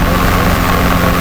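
Rotor and engine drone from a Robinson R22 helicopter at an airfield traffic pattern, a loud, steady whir heard close from inside the cabin over one brief stretch, with no speech.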